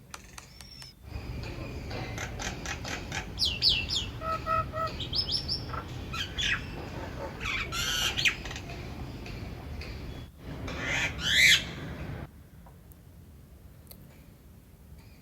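A common myna perched nearby, giving a varied run of calls: sharp chirps, whistles, clicks and warbling notes in irregular bursts, fairly close and clear against a soft outdoor hiss.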